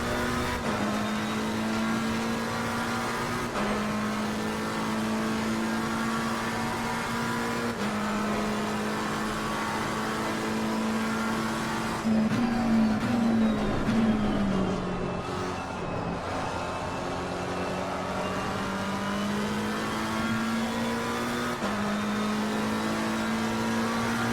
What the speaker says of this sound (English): The Lamborghini is charging up behind us there.